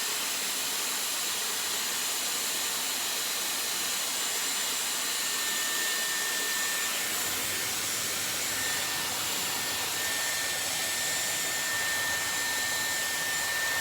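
A Dyson Airwrap hair styler runs with a steady, even airflow whoosh and a high whine, loud and unbroken throughout, with no voices.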